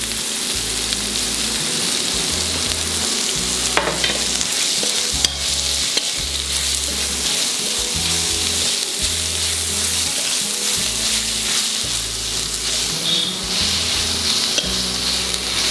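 Tomatoes fry in a pan for chicken curry while being stirred steadily, a continuous close sizzle with scraping spoon strokes throughout, no voices.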